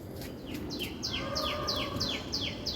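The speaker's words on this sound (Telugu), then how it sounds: "సో పొద్దునే రాగానే చూసారా పక్షులు అరుపులు గార్డెన్లు" Repeated bright chirping bird calls in a steady rhythm, several birds close by in a garden in the morning, with a soft outdoor background and no talking.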